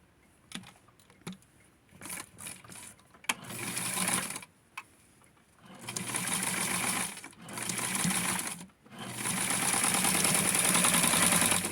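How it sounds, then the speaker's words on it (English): Sewing machine stitching tweed fabric for a Barbie-sized suit, running in loud mechanical bursts that stop and restart several times before a long continuous run at the end. "I'm going to sew it all the way through."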